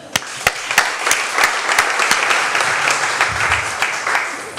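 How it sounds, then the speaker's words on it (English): An audience at a 25th anniversary event claps in sustained applause, with sharp individual claps standing out over a dense, steady wash of clapping close by. "we should be giving a big round of applause for Duff."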